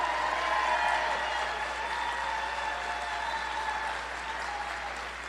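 A political forum audience for South Carolina gubernatorial candidates claps in a sustained, even round of applause that fills the room, then slowly tapers off toward the end.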